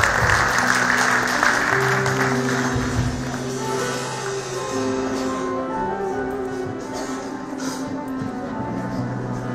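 Audience applause at a city-wide celebration of the anniversary of restored state independence, welcoming a musical guest on stage; dense, steady clapping fills the full stretch over sustained background music.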